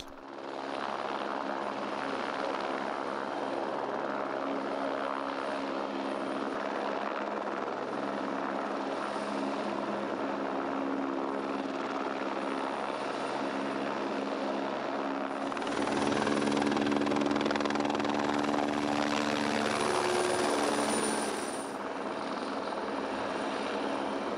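An Air Force helicopter's rotor and turbine drone loudly and continuously, the whine swelling for a few seconds as it sets down nearby.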